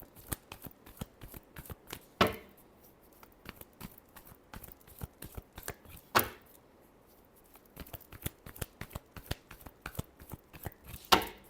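Tarot cards being shuffled by hand in a repeated riffling, with quick papery flicks and a few sharper snaps between them, close up, with no one speaking.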